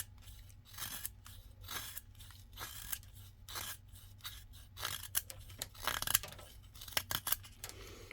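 A Divo Knives Stout V2 folding knife carves through a wooden dowel in cold weather, producing repeated crisp scraping and shaving strokes in an irregular rhythm, close and fairly quiet.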